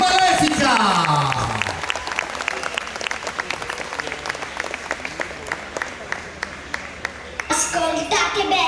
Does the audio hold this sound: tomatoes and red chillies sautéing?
no